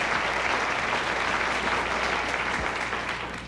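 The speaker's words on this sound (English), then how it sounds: "Listen to that applause." Studio audience applause on a television variety show, a thick continuous wash of clapping from a large crowd, loud and even throughout before tapering slightly at the end.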